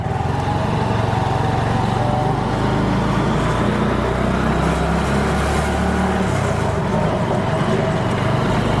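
Motorcycle engine climbing an uphill road on open throttle, a loud, steady low droning hum with a slight pitch shift midway, close and continuous throughout with no talk.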